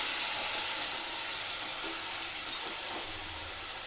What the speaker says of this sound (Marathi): कांदो पण त्याला घेऊया तेलात मस्त परतून